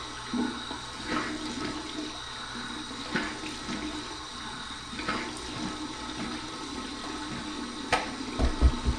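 Tap water runs continuously into a sink, a steady moderate rush with a few louder splashes near the end.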